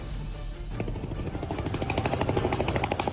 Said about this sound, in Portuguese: Um helicóptero fez voos rasantes à procura dos bandidos.